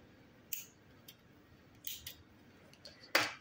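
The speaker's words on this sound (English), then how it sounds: "Cut the yarn" Scissors snipping yarn while finishing a crocheted amigurumi turtle: a few quiet, crisp snips spaced about a second apart, the last one closest and loudest, in a hushed room.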